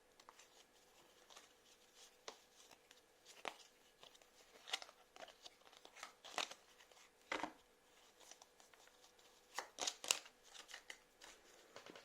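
Oracle cards are shuffled and handled in a quiet reading, giving soft papery riffles and irregular sharp flicks and slaps, close and faint with pauses between bursts.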